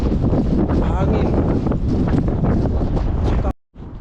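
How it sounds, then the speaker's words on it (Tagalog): Strong wind in snowy Canadian mountains buffeting the microphone with loud, gusty rumble, cutting out briefly near the end before resuming. "Hangin."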